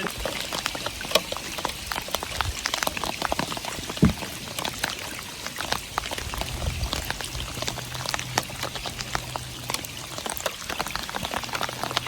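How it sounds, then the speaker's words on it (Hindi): Rain falls steadily on Loktak Lake in Manipur, a dense hiss of drops and patters spattering the water surface throughout, fairly near with no talk. "और अब बारिश शुरू हो गई है"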